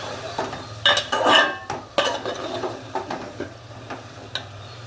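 Tomato, green chili, vegetable stems, potato and eggplant are stirred and sautéed in a pan, with repeated close scraping and clanking of a utensil against the metal over a faint sizzle, in uneven bursts.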